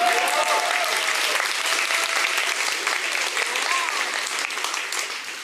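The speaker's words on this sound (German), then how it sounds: "Man kann auch gern klatschen." Steady audience applause at a German-language academic talk on competition, dense and sustained for several seconds with a faint voice threading through before it tapers at the end.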